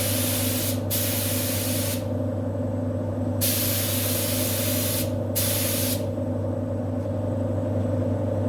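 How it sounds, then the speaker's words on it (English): A low-pressure spray gun applies cream paint to camper van doors: loud hissing bursts start and stop in several passes over a constant low compressor rumble, close by with no talk. "so we're going to 3 coats of cream with a very low pressure gun"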